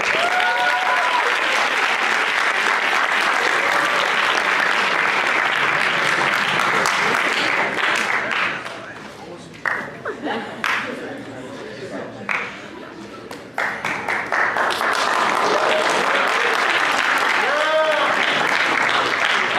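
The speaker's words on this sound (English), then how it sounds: "Right over here, give them a round of applause." Audience applause at a leadership summit as people are called to the stage: loud, sustained clapping that thins out in the middle, then swells back to full strength, with voices audible through it.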